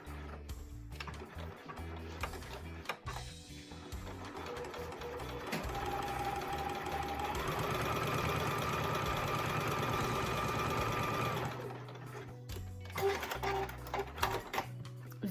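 A sewing machine stitches steadily for several seconds in a home sewing setup after its needle position is shifted, the rapid mechanical whirr rising and holding before stopping, with softer handling clatter around it.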